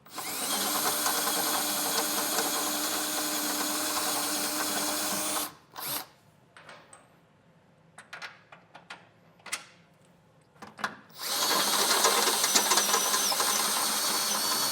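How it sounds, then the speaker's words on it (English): Loud power drill whirring steadily as a bit bores a hole in the metal frame of a 2021 Chevrolet for a trailer hitch, stopping for several seconds of scattered clicks and handling noises, then resuming at full speed. "you could also use a step bit, or if you can have a 9/16 drill bit, that's also gonna work."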